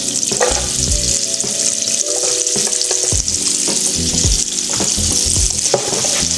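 Ginger sautéing in butter in a pan, a loud steady sizzle and crackle with occasional stirring scrapes and clinks, close up, with no voices.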